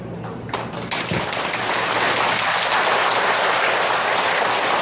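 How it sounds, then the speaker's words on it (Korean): Audience at a seniors' day event in Daejeon's Dong-gu claps, starting thin and quickly swelling into broad, steady applause that holds loud and continuous to the end. "박수 좀 하세요."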